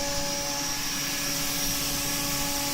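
CNC router spindle cutting slots at 17,000 RPM, a loud steady high-pitched whine with a constant rushing hum, close and unbroken.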